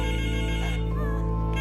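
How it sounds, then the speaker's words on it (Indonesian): A telephone rings indoors during a domestic violence reenactment, a steady electronic ringtone tone sustained loudly throughout the moment. "Tiba-tiba telepon bunyi."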